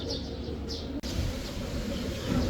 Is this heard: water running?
no